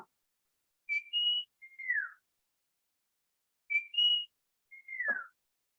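A person whistles an imitation of the brown-cheeked fulvetta's winter call, a woodland bird of Ratnagiri in the Konkan: two clear, close phrases, each a short note, a held tone and a falling slur, separated by a pause, with no talk.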